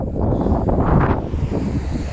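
Steady wind blowing hard across an outdoor microphone, a continuous low rumble and rush with gusts swelling midway, no voices.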